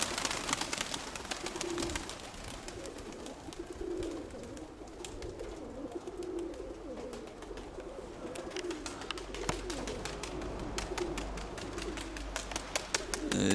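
Pigeons coo repeatedly in a steady low rhythm, several birds close by and fairly loud, with scattered chirps and rustling mixed in throughout.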